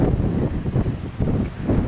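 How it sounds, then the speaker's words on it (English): Strong wind buffets the microphone along a high, cliff-edge mountain trail, a loud, gusty low roar that rises and falls in uneven surges throughout. "It's pretty windy."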